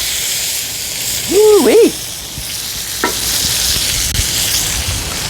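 Butter sizzling in a hot pan around a teres major steak, a steady close hiss throughout, briefly topped by a man's excited vocal exclamation.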